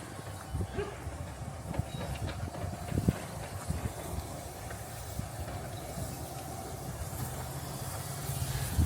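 A train pulls into a Network Rail station, a faint low rumble with soft clatter and a brief hiss, rising slightly toward the end amid quiet platform ambience.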